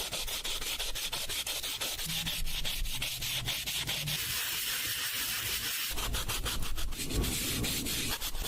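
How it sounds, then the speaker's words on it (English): A bird's beak is sanded, moving from rough to finer grit, giving a steady close scratchy rubbing with rapid strokes that continues without pause and carries no voices. "Sanding begins with a rougher grit and then slowly works up to a higher grit to simulate the natural wear"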